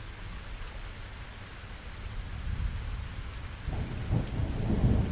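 Steady rain pours down with a deep rolling rumble of thunder building underneath, growing louder and closer toward the end, with no voices.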